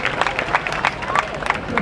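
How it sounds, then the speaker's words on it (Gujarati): An audience at a school annual function claps, a scattered burst of applause heard close, with crowd murmur and voices mixed in. "જોરદાર તાળીઓના નાથી વધાવી."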